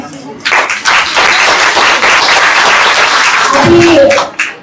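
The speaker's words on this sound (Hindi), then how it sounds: "उत्साह से आप लोगों ने जो जोरदार ताली बजाई थी" A hall audience at a political gathering claps loudly, a dense sustained wash of applause that ends abruptly, with a voice speaking faintly over it near the end.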